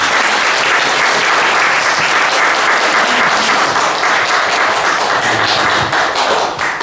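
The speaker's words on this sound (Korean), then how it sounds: "박수" An audience at a Korean forum event claps steadily and loudly for a guest speaker being introduced, a dense continuous wash of hand claps that fills the whole stretch without any talk.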